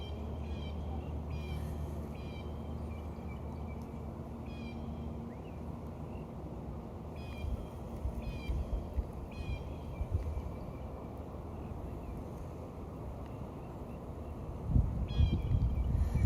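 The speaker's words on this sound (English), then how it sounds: "You hear that cat?" A cat meows repeatedly in short calls at some distance beside a backyard pond, over steady outdoor ambience with a louder rustle near the end.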